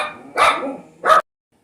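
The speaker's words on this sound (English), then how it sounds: "since my dogs are insisting on having a concert this morning" Dogs bark outdoors on a quiet morning in a garden with raised planter boxes: two loud, close barking bursts about half a second apart, then silence.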